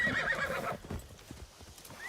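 A horse gallops and whinnies in the video game Assassin's Creed Shadows, a close neigh at the start followed by a quick, rhythmic clip-clop of hooves, with no speech.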